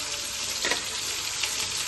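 Carrots tossed into hot oil in a wok bring a brief, steady sizzle with a small burst of crackle partway through, close up and without speech.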